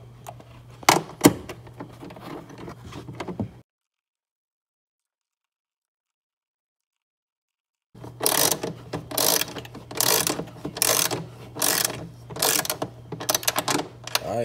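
A ratchet tightens the screws that mount an LED tail light, giving quick bursts of rapid mechanical clicking. A short click run comes first, then silence, then a long series of repeated ratcheting strokes, close and clear.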